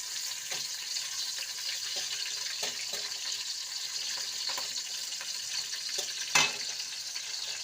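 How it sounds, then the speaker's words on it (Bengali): Chopped onions fry in oil in a wok for a biryani, giving a faint, even sizzle with occasional light clicks and one sharper knock. "এটা একটু ভাজা ভাজা হতে থাক।"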